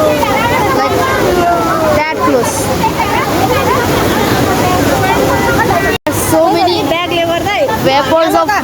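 A waterfall roars in a steady rush nearby, with crowds of people chattering and calling over the water the whole way through.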